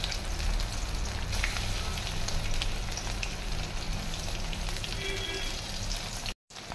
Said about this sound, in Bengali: এরকম দু পিঠ এরকম উল্টিয়ে ভেজে নিতে হবে